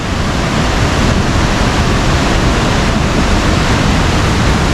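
The Mandakini river rushes at full force in a hilly monsoon setting, a loud, dense, unbroken roar of fast-flowing water filling the whole clip with no voices.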